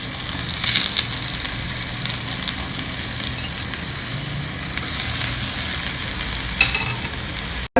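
Bread slices frying in a few drops of ghee on a tawa give off a continuous close sizzle with a crackling texture and occasional brief pops, with no talking over it.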